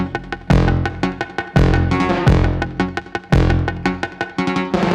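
A punchy saw-wave beat from a Nord Drum 3P rolls along with dense, rhythmic hits, a delay send adding rapid sixteenth-note echoes that smear between the loud strikes, played alone without talk.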